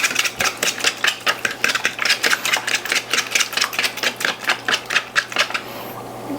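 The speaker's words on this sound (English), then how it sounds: "So just whisk up the eggs." Eggs are whisked in a bowl in a quick, steady rhythm of sharp clinking strokes against the bowl, close and clear over a faint background hum, stopping near the end.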